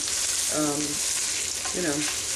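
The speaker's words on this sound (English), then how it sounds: "The next thing I'm going to do is brown the meat. So we put that in the pan." Loose sausage meat browns in a pan over medium-high heat, giving a loud, constant close-up sizzle, and a voice murmurs briefly over it twice.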